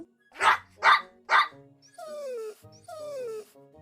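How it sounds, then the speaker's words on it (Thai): A cartoon dog gives three quick sharp barks, then two drawn-out high yelps that slide downward as a small crab pinches its nose, loud and close. "ก่อนจะกระโดดถอยหลังแล้วเห่าเสียงหลง"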